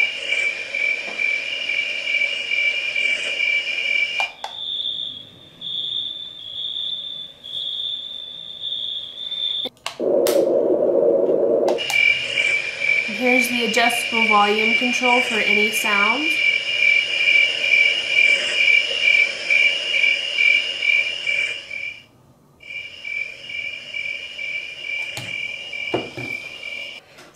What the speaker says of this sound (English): And here's sleep ambience and summer night.